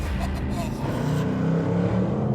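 Ford Mustang V8 engine pulling hard, a deep continuous rumbling drone with a steady low throb, loud and close, holding without a break.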